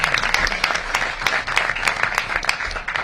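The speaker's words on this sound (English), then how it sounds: "Let's give Mayor Bowser a round of applause for that" A crowd applauds Washington, DC Mayor Muriel Bowser after a presentation, dense steady clapping filling the room, moderately loud and continuing throughout.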